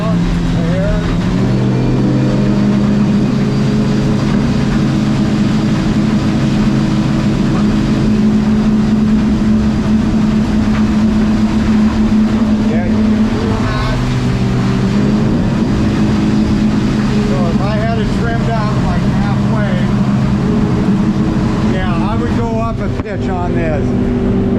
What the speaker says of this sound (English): Hit the rev limiter right there.